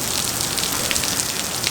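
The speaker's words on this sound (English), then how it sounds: "It has been raining hard." Hard rain pounding steadily onto puddles on a flooded driveway outside a shop, a dense, continuous hiss of drops close by with no voices.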